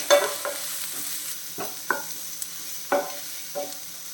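Ginger garlic paste fries in a pan with onions for a restaurant-style paneer masala, a soft continuous sizzle broken by several sharp scraping strokes of a spoon stirring against the pan, close by and without talk.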